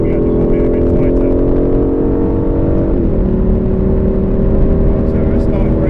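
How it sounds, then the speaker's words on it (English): An Aston Martin V8 Vantage engine drones loudly and steadily from inside the car on the Silverstone track, with rising harmonic engine tones and a brief shift in pitch midway. "So turn into the corner and accelerate out"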